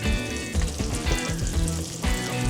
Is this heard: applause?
no